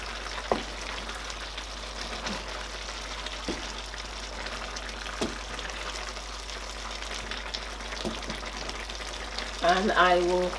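Plantain porridge is stirred in a pot, with a soft, continuous bubbling simmer and a few scattered clicks and scrapes. A brief murmur of voice comes near the end.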